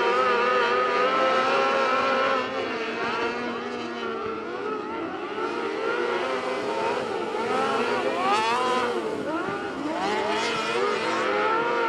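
Power 600 micro sprint cars battle around Central Arizona Speedway, a dense, loud engine whine with pitch sweeps as cars pass by in quick succession throughout.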